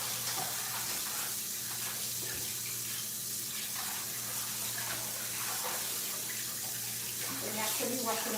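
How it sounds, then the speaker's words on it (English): Tap water runs steadily into a kitchen sink while salt fish is rinsed for cassava dumplings, a continuous close splashing wash with a low hum underneath and faint clatter near the end. "I'm going to step by the sink and wash out"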